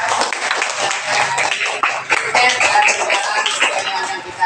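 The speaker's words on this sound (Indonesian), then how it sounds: "Alhamdulillah, tepuk tangan" A classroom of students clapping their hands together, steady and fairly loud throughout with brief voices mixed in.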